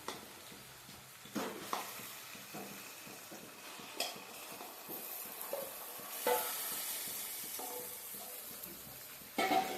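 Mutton curry frying in a pan with turmeric, ginger and garlic is stirred in repeated scraping strokes over a steady low sizzle, with occasional clinks of the utensil against the pot.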